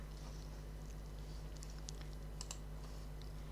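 Light typing on a computer keyboard in a quiet room, a faint scatter of soft key clicks in irregular bursts over a steady low hum.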